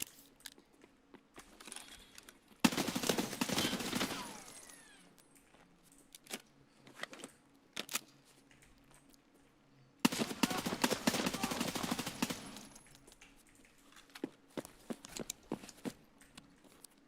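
Two bursts of rapid automatic gunfire in Escape From Tarkov, each a dense, loud rattle lasting about two seconds, with scattered single sharp shots and clicks between them and no talking.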